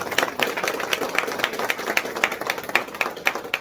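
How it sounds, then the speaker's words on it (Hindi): Steady, moderately distant applause from a crowd at a store opening ceremony in Ranchi, Jharkhand, with regular claps running throughout and no talking over them. "पहले तालियां बजाते हैं।"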